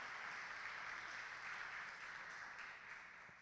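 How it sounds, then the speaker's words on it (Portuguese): A church congregation applauds steadily, a sustained wash of many hands clapping at moderate distance, fading slightly at the close with no voices on top. "Dê uma salva de palmas para o Senhor."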